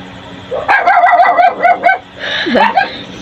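Dogs bark close by in a quick volley of sharp yaps, pause briefly, then bark again with a higher yelping call.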